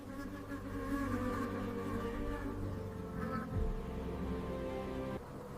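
A honeybee swarm fills the air with a continuous low buzzing hum as the colony flies as a cloud, steady and fairly close, with one bee passing nearer partway through.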